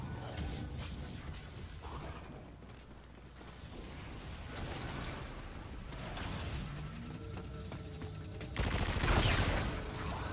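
Starting pistol gunfire in Call of Duty: Infinite Warfare Zombies, with repeated shots and mechanical game sounds running steadily under a busy mix that swells louder near the end.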